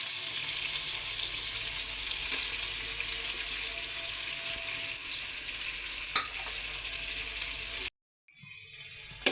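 Tomatoes frying in a pan for vegetable biryani, a loud steady close sizzle with an occasional faint clink, ending in a brief silence and then a short resumed hiss.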